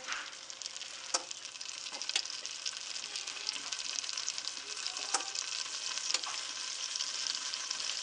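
Butter melts in a hot pan with flour and mushrooms while being stirred and whisked, a steady close crackling sizzle with sharp clicks of the utensil against the pan scattered through it.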